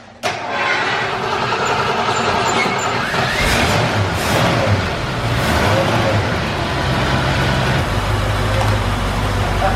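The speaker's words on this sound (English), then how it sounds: "Will it move under its own power?" A 1972 Ford Gran Torino, unstarted for 17 years and without working brakes, runs with a rough, rumbling engine that swells and settles as the car creeps along, with a few brief voices in the background.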